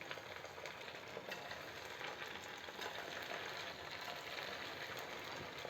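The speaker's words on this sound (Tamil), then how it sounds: "இப்போ நம்முடைய ஸ்நாக்ஸை நம்ம இந்த எண்ணெயில் சேர்த்துக்கலாம்." Small balls of sago snack dough drop into hot oil and fry with a steady, dense crackle and bubbling sizzle, fairly quiet and continuous without pauses.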